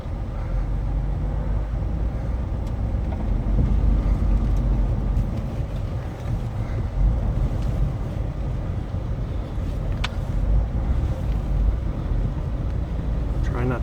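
Pickup truck slowly reversing a heavy dump trailer loaded with firewood after an ice storm, a steady low engine rumble running throughout at close range with no talk over it.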